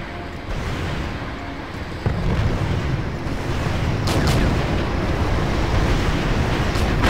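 Tanks struck by rocket launchers in Wargame: European Escalation, a loud, continuous rumbling roar of explosions and shelling with a sharper blast about two seconds in and crackling impacts later on.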